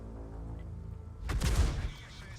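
In World of Tanks, artillery fire hits an AMX 50 120 tank: a steady low engine rumble gives way to one heavy, booming impact about halfway through, with a rough, crackling tail.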